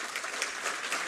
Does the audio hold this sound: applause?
yes